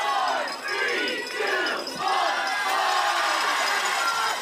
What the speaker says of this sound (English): we have a counting battle going on in the crowd right now